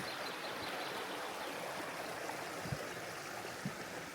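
Water in a stream flowing steadily through natural surroundings in Germany, a soft continuous wash with a couple of faint low knocks, heard alone and fairly quietly.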